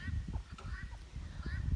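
Young guinea fowl keets peep and chirp in short high calls among low scuffling noises, a few faint squeaky notes scattered over nearby background sounds.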